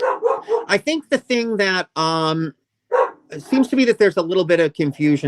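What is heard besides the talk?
dog barking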